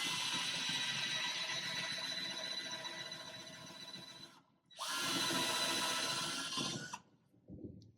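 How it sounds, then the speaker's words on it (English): Hand drill boring into a wooden platter, a steady loud whine running for about four seconds, a brief pause, then a second burst of drilling before it winds down to a short final spurt. "So now I'm just gonna take my drill."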